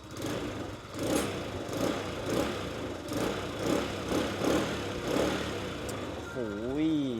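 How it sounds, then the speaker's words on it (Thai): A 2022/23 Malaguti Madison 150 scooter with about 7,500 km on it runs through its stock exhaust, holding a steady close-up engine note with regular swelling pulses roughly every half second. "มาฟังเสียงท่อเดิมกันหน่อยดีกว่านะครับ"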